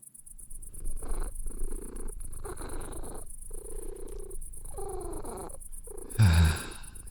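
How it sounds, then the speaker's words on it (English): A cat purrs softly and rhythmically while curled on a lap, close and intimate, the purr coming in repeated breathy cycles, ending in a brief low thump. "Just curling up on my lap whenever you like, and purring against me"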